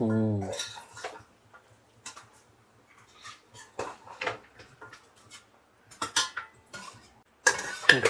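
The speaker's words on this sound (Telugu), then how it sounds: "మంచిగా మటన్ ముక్కలు వేసుకున్నాం కదండి" Pieces of mutton are dropped into a metal pot of masala, bringing scattered clinks and knocks of metal and utensils, a clatter nearby and quieter tapping, with a voice speaking briefly at the start and the end.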